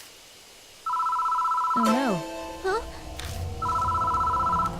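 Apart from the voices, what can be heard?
telephone ringing in the video game Death Mark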